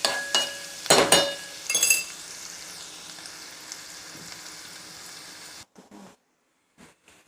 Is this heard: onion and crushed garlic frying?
yes